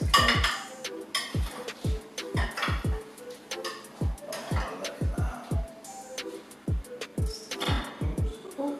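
A toad in the hole, sausages baked in batter, is prised and scraped out of a metal baking tin in a British home kitchen, giving a run of sharp clinks and scrapes of utensil on metal, close and irregular, with room noise between.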